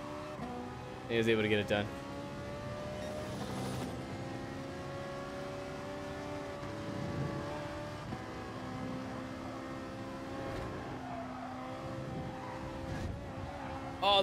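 A Porsche race car engine roars in GT Sport, its revs rising and falling steadily throughout, with a brief sharper burst near the start and a voice talking over it.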